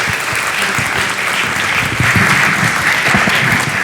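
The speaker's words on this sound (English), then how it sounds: "Give them a big round of applause." A loud, sustained round of applause from the audience at a community annual day program, close and full, with clapping holding steady throughout and no one talking.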